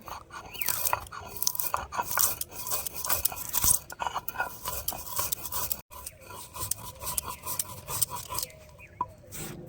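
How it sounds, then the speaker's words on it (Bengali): Roasted whole spices, black peppercorns, whole coriander and a bay leaf, being ground for Kolkata street-style aloo chop: a close, continuous gritty crunching and rasping with uneven bursts of louder grinding and no voices. "এইবার মশলাগুলো আমি গুঁড়ো করে নেব"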